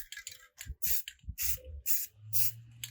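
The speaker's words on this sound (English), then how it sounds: "And you just do short little bursts. You can spray wherever you want" An aerosol can of spray paint hisses in about five short, sharp bursts separated by brief pauses, close to the mic, while paint is laid onto water for hydro dipping a tumbler.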